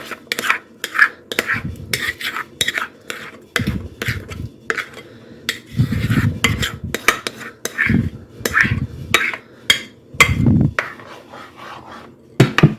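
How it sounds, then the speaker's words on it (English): A flour thickener is stirred into cheesy potato and corn soup in a pot, with a spoon clinking and scraping in a steady, repeated rhythm and thicker low stirring swishes at intervals. "Stir it in and just cook it just a little bit until it's thickened."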